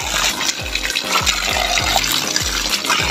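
Water pours and splashes steadily while feet are washed, a dense continuous wash with a regular pulse of soft low thumps, close by and without voices.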